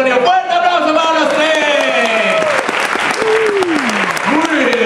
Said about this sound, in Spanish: ¡Fuerte aplauso para los